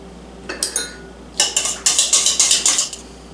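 Vegetable oil and two egg yolks being whisked together in a bowl for waffle batter: a quick run of sharp, rhythmic clinks of a utensil against the bowl, close and fairly loud, with no talking.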